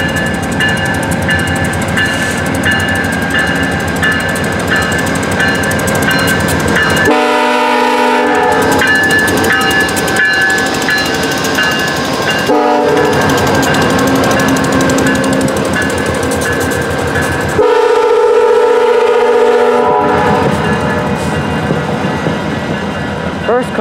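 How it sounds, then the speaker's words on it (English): A VIA Rail passenger train's horn blares in several long, loud blasts for a level crossing over the close, heavy rumble of the passing train. "they are honking for that crossing"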